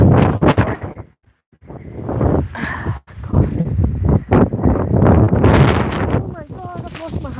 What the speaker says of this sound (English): the wind is just too much